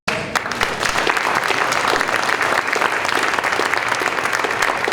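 Audience applause at a middle school assembly for a former most improved student, a dense, steady clapping from a large crowd that starts abruptly and holds at full strength throughout.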